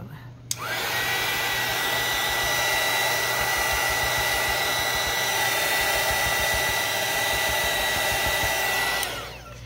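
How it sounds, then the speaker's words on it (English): A heat tool blows hot air over scotch tape being antiqued with color, a steady, loud, even whoosh that starts abruptly, holds for about nine seconds, then cuts off. "I think it works better to have that heat tool ready right there"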